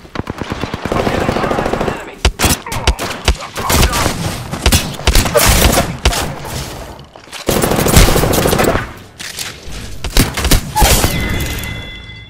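Rapid automatic gunfire crackles in long bursts during a video game firefight, loud and close, broken by brief pauses, with some voice chatter underneath.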